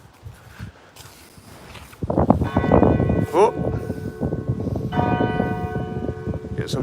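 Church bells chime at Dunfermline Abbey, their clear ringing tones entering after a quiet start and swelling with overlapping, sustained strikes, while footsteps and a brief voice sound nearby.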